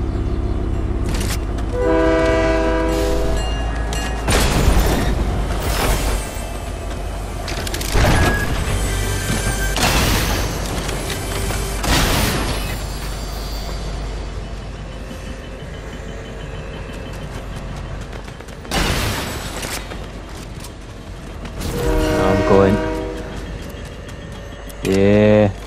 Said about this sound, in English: let's go on the train